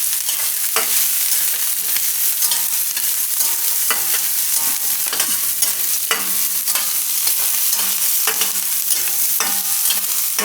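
Garlic, green chillies, coriander stems and peanuts fry in hot oil while a spoon stirs them, giving a close, steady sizzle with repeated scraping strokes throughout.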